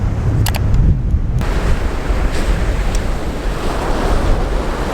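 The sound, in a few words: ocean waves crashing onto shoreline at Landguard Point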